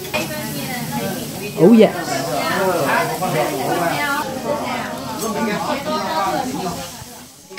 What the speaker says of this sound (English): Caramelized onion fried in meaty residue to kick off the palate.